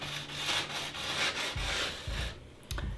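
A stone or file rasps along a ski edge from tip to tail, a close, steady scraping stroke with a few heavier rubbing pulses near the end.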